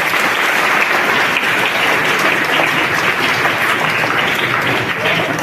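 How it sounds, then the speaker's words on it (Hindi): Loud, dense audience applause welcoming a teachers' union district president at a community gathering, continuous and steady throughout without a break. "तालियां बजाकर स्वागत"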